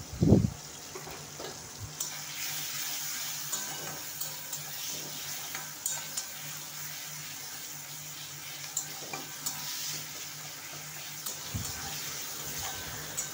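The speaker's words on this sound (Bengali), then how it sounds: "পেঁয়াজ, টমেটো এবং রসুন বাটা ভালো করে ভেজে নিয়ে" Onion, tomato and garlic paste frying in a pan, an even close sizzle under repeated scraping stirs of a spatula, with a few louder knocks against the pan.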